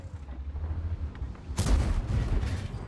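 A low mechanical rumble in World of Tanks is broken by a single loud, booming artillery blast midway, followed by a rolling, crackling tail.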